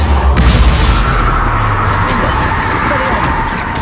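A Confringo blasting spell exploding in Hogwarts Legacy, a loud booming burst at the start that rolls into a sustained rumbling wash and slowly fades.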